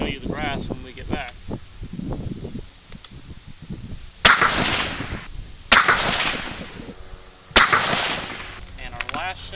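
.243 rifle firing a 90g Sierra Gamechanger bullet at a 100-yard range: three sharp, loud shots spaced a couple of seconds apart, each with a ringing decay, following a stretch of nearby talk.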